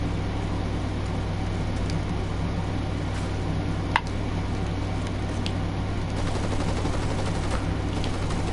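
Continuous rapid gunfire in Fortnite, a dense steady stream of automatic shots with a few sharper cracks standing out, set against a constant low game hum with no talking.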